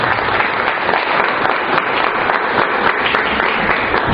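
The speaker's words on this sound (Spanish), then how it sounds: "démosles un fuerte aplauso de bienvenida" Church congregation claps in welcome, a steady, loud, unbroken roll of applause filling the room for about four seconds, with no talking over it.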